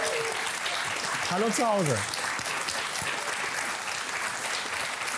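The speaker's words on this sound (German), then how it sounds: "Danke für den herzlichen Applaus hier im Studio." A studio audience at a 2002 Berlin television quiz show claps in a steady, sustained burst of applause while a host's voice greets viewers over it.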